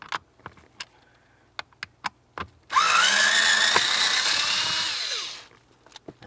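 A power driver spins out the T20 bolts holding up the blower motor of a 1999-2003 Toyota Solara: one steady, close whir lasting about three seconds, with scattered small clicks and taps before and after.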